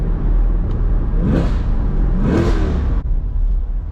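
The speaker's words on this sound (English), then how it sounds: "So the exhaust is just crazy, dude. It is so loud." A loud C8 Corvette sports car exhaust revs twice in quick bursts over a steady rumbling engine drone, close by, then cuts back to a low idle.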